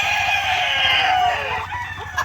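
Dekalb Brown hens cluck and murmur inside a chicken coop, a close, steady chorus of overlapping throaty calls that stays loud throughout and tails off near the end.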